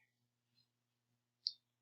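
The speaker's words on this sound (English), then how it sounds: "click the download icon" A single sharp computer mouse click on a download icon, faint and isolated in near silence, with a softer tick just before it.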